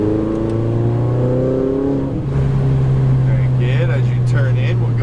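Ferrari 488 GTB engine pulling on a race track, a steady loud droning note with a slight dip and shift around mid-clip as throttle is fed back in, a voice talking over the engine throughout.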